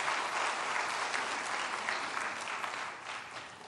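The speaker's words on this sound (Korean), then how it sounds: "우리 시온성가대 더욱더 은혜롭게 하나님 앞에 영광을 돌릴 수 있도록 큰 박수 한번 해주시길 바랍니다." A church congregation applauds the choir in a steady, dense burst of clapping that fills the room from start to finish, fading slightly at the end, with no voices above it.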